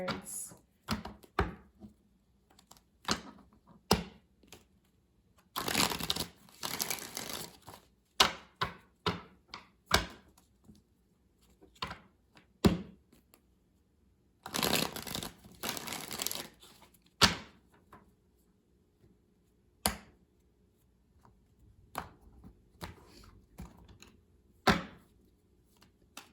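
Goddess oracle cards are handled and shuffled in quick bursts of riffling, scattered among sharp taps and snaps of single cards, with quiet pauses between.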